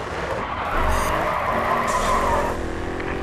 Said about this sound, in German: Sauberer Drift und weitere Punkte.